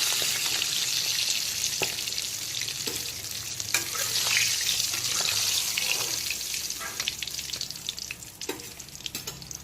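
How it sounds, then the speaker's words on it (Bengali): Bhola fish fries in oil with a dense, bright sizzling hiss that swells and fades, with a few sharp clicks and splashes; close, steady and without voices. "এখন বাকি যে দুটো মাছ রয়েছে সেগুলোকেও তেলের মধ্যে দিয়ে দিচ্ছি।"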